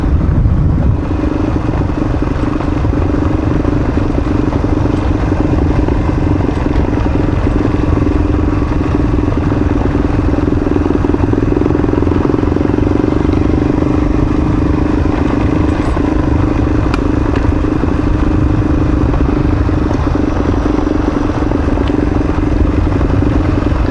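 A dual-sport motorcycle ridden along a North Carolina mountain road, its engine droning loudly and steadily at close range with constant wind rush and no pauses.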